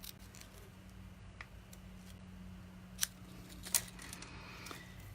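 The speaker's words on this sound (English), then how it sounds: "I'm just going to snip the end off this way" Scissors snipping the end off laser-cut designer paper, two sharp crisp cuts standing out over quiet room hum and faint handling rustles, close, no talking.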